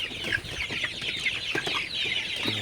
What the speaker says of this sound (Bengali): আপনারা দেখতে পাচ্ছেন মুরগিগুলো মাসাল্লাহ খুবই ভালো আছে